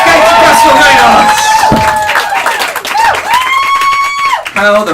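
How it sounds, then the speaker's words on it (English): Audience applause and cheering for Katie Cresswell-Maynard at a comedy panel show, loud crowd clapping with whoops, partly under a voice talking over it. "Round of applause for Katie Cresswell-Maynard."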